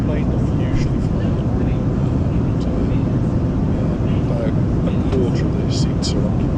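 Steady, loud broadband roar of an airplane cabin shortly after takeoff on a larger, mostly empty passenger plane, constant engine and airflow noise filling the whole stretch, with a few faint higher clicks and rustles near the end.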